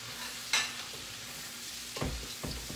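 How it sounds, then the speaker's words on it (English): Chicken pieces with ginger and chilies cooking in a pan, a faint, quiet sizzle broken by a few scraping stirs and clinks, with no talking. "I am cooking the chicken that I just cut up with the ginger and chilies."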